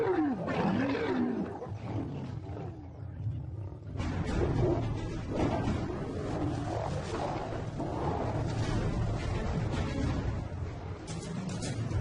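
Lions brawl in the wild between rival prides, with continuous deep roars, snarls and growls that swell and overlap for several seconds, loud and close.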